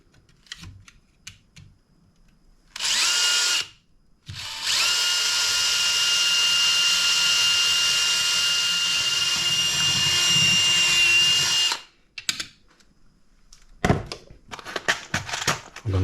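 A power drill bores a hole through flattened metal sheet for a pop rivet: a short loud burst, then a longer, steady, high-pitched whine lasting about seven seconds, framed by quiet handling clicks.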